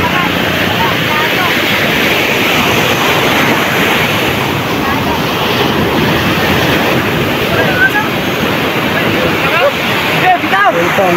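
Rough sea surf crashes and hisses continuously at close range, loud and broadband, with wind buffeting the microphone while small boats ride the swells.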